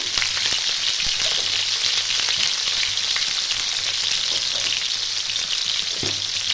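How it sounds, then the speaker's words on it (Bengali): Broccoli and potatoes sizzling hard in hot oil in a pan with salt, a dense, loud, continuous crackle with occasional spoon scrapes and no voices. "দিয়ে একটু লাল লাল করে আমি ভেজে নেব"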